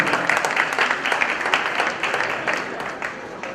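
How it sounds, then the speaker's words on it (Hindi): A congregation at a live Jain religious discourse claps in honor of a young woman, a rhythmic, fairly close burst of many hands that fades slightly toward the end, with no talk over it. "एक बार जिया बिटिया के सम्मान में भी तालियां बजा दी"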